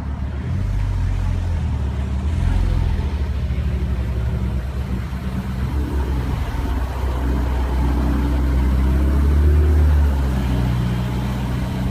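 Porsche 918 Spyder sports car arriving at the Mall of San Juan, a low, steady engine rumble that swells slightly as it rolls in, near and continuous with no talk.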